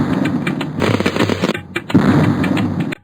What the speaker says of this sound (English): This is not firecrackers, this is a bomb!